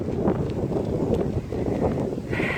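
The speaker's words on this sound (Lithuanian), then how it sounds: "Tas vėjas, tai biškutį čia papūs" Gusty wind buffeting a phone microphone outdoors in a village, a steady rumbling roar that swells and dips throughout with no speech.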